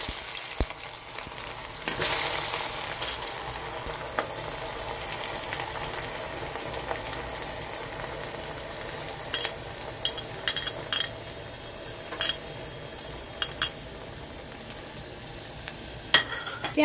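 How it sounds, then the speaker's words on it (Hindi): Two large sliced onions hit a hot pan of oil and fry with a loud burst of sizzle that settles into a steady hiss, broken by spoon scrapes and clicks, with no voices. "अब हम इसमें प्याज डाल देंगे।"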